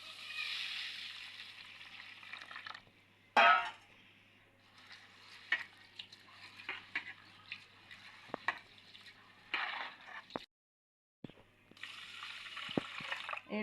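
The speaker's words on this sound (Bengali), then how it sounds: "এইভাবে আমি 2-3 বার ধুয়ে চালটা পরিষ্কার করে নেব।" Atap rice is swished and rinsed in water, with sloshing and trickling in bursts, a sharp splash early on and a brief pause before the washing resumes.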